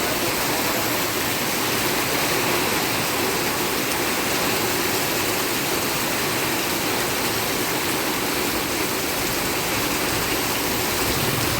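Rainwater pools and flows beside a house during heavy monsoon rain, a dense unbroken rushing hiss that holds at the same level throughout, close and fairly loud, with no speech.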